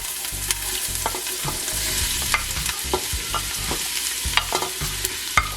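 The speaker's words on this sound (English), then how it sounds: "I'm going to saute the onions" Onions and garlic sizzle steadily in a hot pan for Italian-style meatball sauce, with repeated scraping stirs and small clicks of a utensil close up, continuous and fairly loud, no talking.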